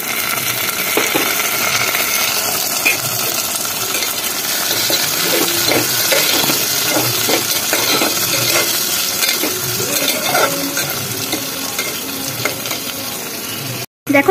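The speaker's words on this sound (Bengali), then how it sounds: "টমেটো কুচিটা দিয়ে দিচ্ছি।" Chopped tomato sizzles and fries with browned onion in a pan for chicken dak bungalow, a steady loud crackle with occasional stirring scrapes throughout, cut off abruptly at the end.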